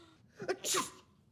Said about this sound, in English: She's sneezing.